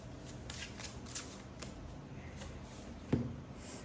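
Tarot cards are shuffled by hand in a run of soft, quick riffling bursts and papery flutters, fairly faint and close, with a slightly sharper snap near the end and no voices.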